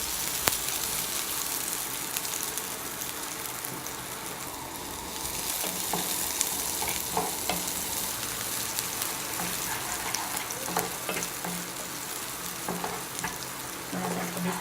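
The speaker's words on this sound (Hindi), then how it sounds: "अब इसमें हम थोड़ी सी प्याज डालेंगे।" Chopped onion frying in a pan for egg rolls gives a dense, loud, steady sizzle with scattered spatter and stirring clicks throughout, no voices.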